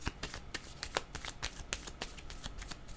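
Playing cards shuffled by hand before one is drawn, a rapid run of crisp riffling clicks and soft flutters close by, steady for the whole stretch with no talk.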